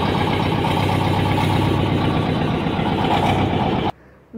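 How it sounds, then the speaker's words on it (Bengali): A motor boat engine runs on a river during an afternoon boat ride at Taki, giving a loud, steady droning rumble that cuts off abruptly near the end. "এই যে মাঝি চালাচ্ছে, যদিও এটা মোটর বোট"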